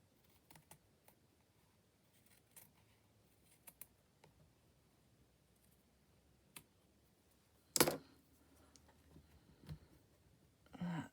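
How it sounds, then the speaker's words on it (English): A few sharp, small snips and light clicks close by as small scissors trim thread in bookbinding, sparse and quiet, with one louder crisp cut partway through; nobody speaks. "So find my little scissors and debate how much I want to take off."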